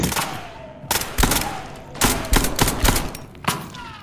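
Gunfire in the tactical horror shooter SCP 5K: several loud, close bursts of shots and sharp cracks at irregular intervals, with brief pauses between volleys.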